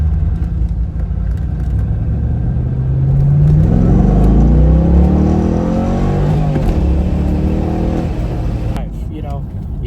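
A C5 Corvette accelerates hard, its engine revving up through a rising pull before easing off, loud and near, with a voice talking over it.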